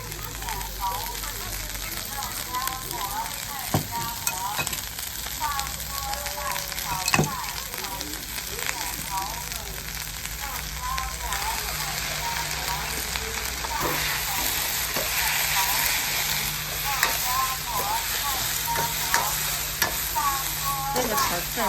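Vegetables, bean sprouts, onion, egg and noodles stir-fried in a wok at a busy Xi'an street food stall, with a steady sizzle and scraping spatula strokes throughout, loud and close, under faint market chatter.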